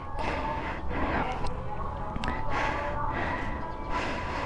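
A delivery rider pants heavily, out of breath, with repeated audible breaths close to the microphone over a noisy background.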